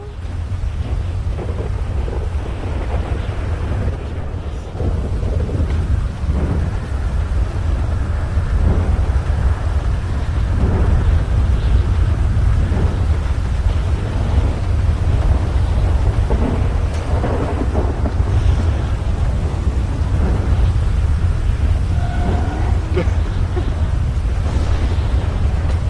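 A very loud thunderstorm outside, continuous heavy rain with repeated deep thunder rumbles rolling through, close and sustained with no voices.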